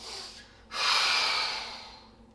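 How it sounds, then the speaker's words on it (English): A single deep breath drawn and released during a core breathing exercise, a soft airy rush that swells quickly and fades gradually over about two seconds, close and quiet with no talking. "take a big deep breath in, exhale, and really pull in that belly button"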